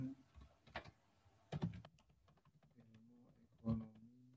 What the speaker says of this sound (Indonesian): kemudian kita ketik nama jurusan